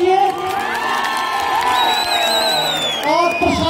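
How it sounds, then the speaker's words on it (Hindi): Crowd at a Kullu Dussehra night event cheering, whooping and clapping loudly for the local MLA, a dense roar of voices and applause with shouted whistles and calls rising over it. "इनके लिए जोरदार तालियां लगा दीजिए"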